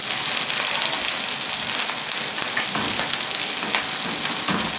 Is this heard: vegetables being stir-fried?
yes